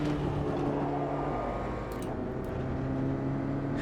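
Steady race car engine drone from a Volkswagen Polo or Virtus in the Automobilista 2 racing game, a continuous loud whirring hum with a small dip partway through and no talking.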